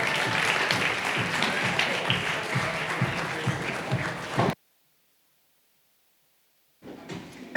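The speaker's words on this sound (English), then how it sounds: "Big round of applause." Audience applause at a startup pitch festival, a dense roomful of clapping that runs for several seconds, stops abruptly into silence, then briefly resumes.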